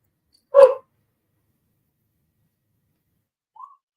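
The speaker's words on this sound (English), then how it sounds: "Nothing like a dog having whiny syndrome" An indoor dog that dislikes being left alone lets out one sharp, close bark, then after a long pause gives a faint, brief whine.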